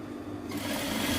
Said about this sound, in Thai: จะติ๊กไว้แค่ตรงนี้ก่อนแล้วก็เย็บกดมา